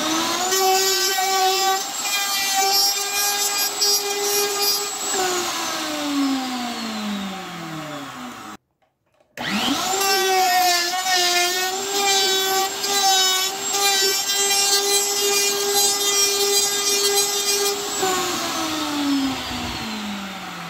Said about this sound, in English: I'm going to come over to the router table. And with a 1/4-inch flush trim bit, I'm going to run alongside the edges